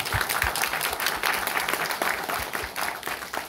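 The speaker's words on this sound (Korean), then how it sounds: "박수 세게 쳐주셔도 됩니다." Audience applause at a youth committee launch meeting in Tongyeong-Goseong, Korea, a steady burst of clapping from a seated crowd filling the room for several seconds.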